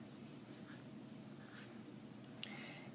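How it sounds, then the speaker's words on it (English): A pen scratches across paper drawing a number line, soft strokes and short scraping marks over a quiet room hiss, with a small tap near the end. "So let's draw a number line."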